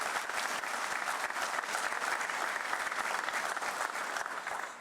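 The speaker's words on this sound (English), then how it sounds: "let's give them a round of applause" A crowd applauds at a medical college campus ribbon cutting ceremony, giving a continuous round of lively, close clapping with sharp individual claps that carries on without letting up, then fades slightly at the end.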